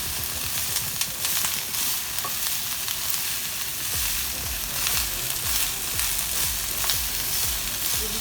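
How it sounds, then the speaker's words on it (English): Burdock (gobo) root stir-fries in a pan with a continuous hissing sizzle, broken by light irregular clatter from stirring. "You're just gonna stir fry."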